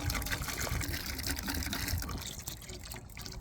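Liquid, likely beer, splashes and trickles into a pot meant for boiling pork over a wood fire outdoors, a steady close pour running for a few seconds with faint voices in the background.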